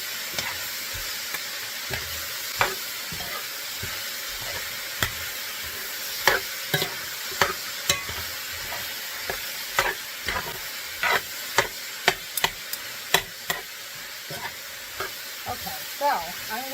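Beer brats frying in a pan with roasted garlic powder being stirred in, giving a steady sizzle broken by repeated scraping, clinking strokes of the utensil against the pan, close and fairly loud.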